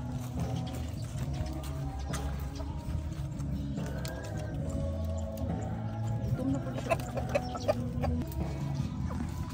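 Native chickens cluck and call continuously while being fed on a farm, with a busy layered flock sound, some faint mechanical rattling, and no clear speech.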